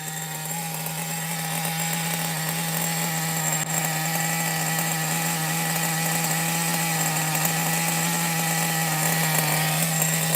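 A Megatech Nitro Razor RC car's nitro engine runs steadily, a loud, constant buzzing drone with a strong fixed pitch that holds unchanged from start to finish, with no voices over it.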